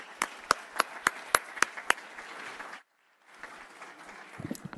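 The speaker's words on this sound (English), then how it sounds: "Let's give a round of applause for Councilwoman King Sweeney" Town board meeting audience applauding a departing councilwoman: several loud, evenly spaced claps ring out over softer clapping, a brief cut to silence, then quieter crowd applause resumes with scattered claps.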